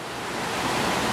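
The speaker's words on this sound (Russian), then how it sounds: "Здесь водопадики так красиво у вас шумят так." Small waterfalls at a Hawaiian hotel, heard as a brief, steady broadband rush of splashing water, close and continuous with no voices.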